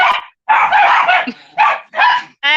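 Several sharp dog barks in quick bursts, close and loud, with short gaps between them and a brief whine at the end.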